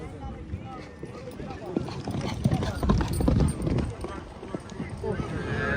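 Horses galloping at a neza bazi tent-pegging event in a village, rapid hoofbeats thudding under a loud commentator's voice amid outdoor crowd noise.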